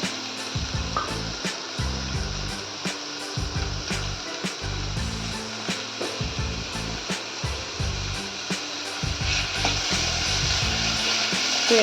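Onions frying in a pan while cooking dal fry, a steady sizzle with intermittent scraping and stirring knocks throughout.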